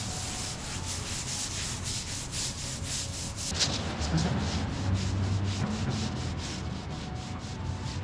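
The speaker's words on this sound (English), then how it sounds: "we're going to apply it to the stain with a scrub brush" Stiff scrub brush working a grease-fighting paste into an asphalt oil stain, giving steady, close rhythmic rubbing strokes that continue throughout, with a slight shift in texture midway.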